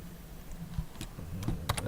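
Typing on a computer keyboard to enter a news site name, with scattered quick key clicks in short bursts, close and moderately loud over a low room hum.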